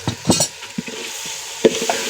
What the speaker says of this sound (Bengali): এখন এই তো কষানো মাংস ঢেলে দেওয়া হলো এখন এটা দিয়ে মিক্সার করতে হবে